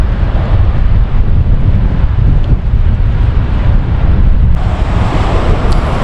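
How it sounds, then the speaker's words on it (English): Strong wind sweeps past near the Roebling Suspension Bridge over a fast river current, producing a loud, constant roar and microphone buffeting with no voices. "It's so windy."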